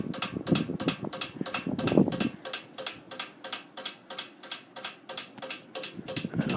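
A 1987 Halsey 52-inch ceiling fan runs close by, its blades catching on the screws to make a steady, evenly spaced stream of sharp ticks over a soft whir.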